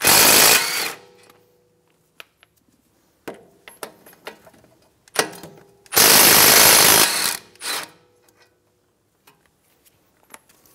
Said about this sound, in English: Using a 17 millimeter socket, remove the brake caliper bracket bolts.